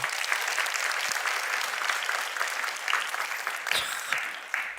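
A church congregation at a Wednesday service gives a sustained round of applause, dense and even, with the many hands blending into a continuous wash.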